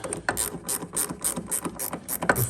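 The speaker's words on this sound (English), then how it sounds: "get it started, and then run it down as far as you can before it starts to get snug" A ratchet clicks rapidly and evenly as a new nut is run down on a 1982 Mercedes 380SL, a close, continuous metallic ratcheting with no talking.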